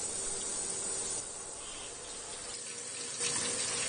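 Steady running water from a tap rinses colored stone jewelry, a close, continuous hiss and splash with slight changes in flow as pieces move under the stream, heard alone.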